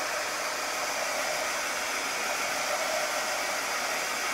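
A hair dryer blows steadily and close up, drying painted metal tulip decorations with a constant loud broadband whoosh that never varies.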